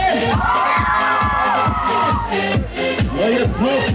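A live concert crowd at a performance in Głogowo, 2016, cheers, shouts and whoops loudly and continuously, a dense roar of many voices close at hand.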